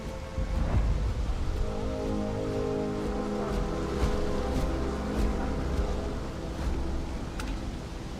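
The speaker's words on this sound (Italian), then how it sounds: "piove anche" Steady rain hisses with a low rolling rumble of thunder underneath in the video game Starfield, continuous and fairly close, with no voices.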